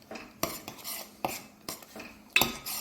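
A spoon stirring a Kerala-style curd and coconut cucumber curry in a pot, with sharp metallic scrapes and knocks against the pot at irregular intervals, close and loud with no talk.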